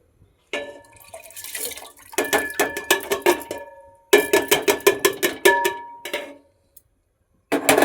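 Dry rice is poured into a metal pot set on to heat water for cooking, making bursts of rattling, ringing patter against the metal, in several pours separated by short pauses, close and fairly loud.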